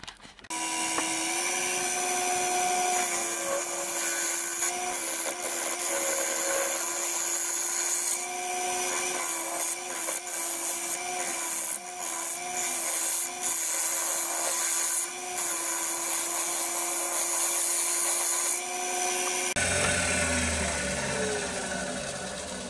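A lathe hollows out a maple bowl with a continuous steady whir and scraping rasp of the cutting tool against the wood, close and loud throughout with no talk.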